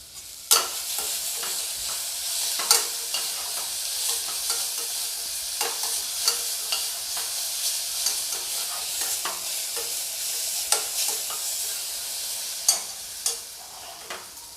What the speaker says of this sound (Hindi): इसको भी हम लगभग आधा सेकेंड तक भूनेंगे, इसको चलाते हुए।